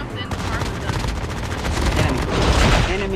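Rapid bursts of Call of Duty Mobile gunfire crackle almost continuously, loud and dense, with the volume swelling toward the end.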